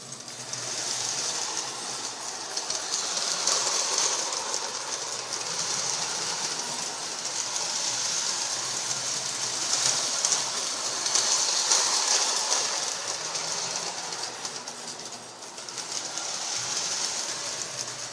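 A toy train runs around beneath a Christmas tree, giving a steady, continuous mechanical whirr and rattle close by, with a faint hiss on top and no talking.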